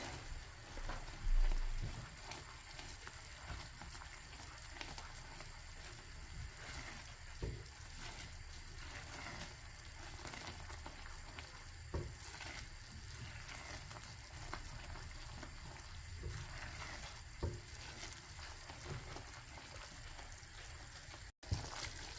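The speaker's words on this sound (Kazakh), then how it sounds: "Бұлғап тұрып 5 минут қайнатамыз." Caramel bubbling steadily in a pot as it is stirred, a continuous close hissing simmer with occasional small clinks and scrapes, no voices.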